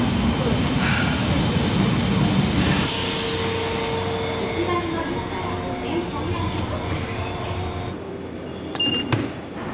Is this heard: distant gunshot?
no